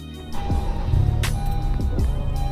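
A Honda Civic Type R engine cranks and catches, settling into a low, steady idle hum after a brief starter whine; close and fairly quiet.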